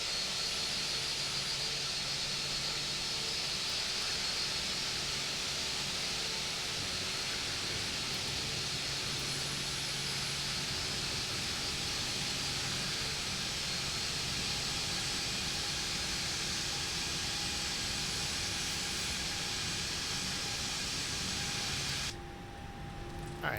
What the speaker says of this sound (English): it's speeding down a taxiway because it's an Airbus